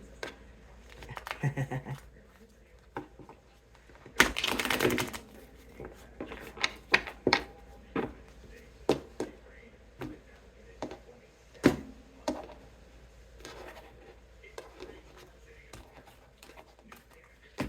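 Tarot cards being shuffled by hand, a burst of riffling followed by scattered soft taps and shuffles, close by, with quiet speech underneath.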